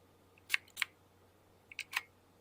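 Four quiet, short clicks of keys on an Obsidian M2 PC lighting console in two pairs, with a pause between the pairs, over a faint low hum.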